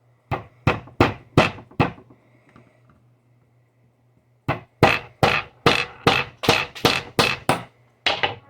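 Sharp, evenly spaced hammer taps drive out the handle peg of a Dragon King Spring Sakura katana. A run of five strikes is followed by a pause, then a quicker series of about eight close, ringing knocks.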